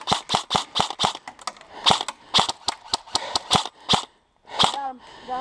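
Airsoft guns fire in the woods in a rapid string of sharp, close pops, about a dozen and a half shots in quick bursts, with a brief pause near the end before a few more, and no talk over them.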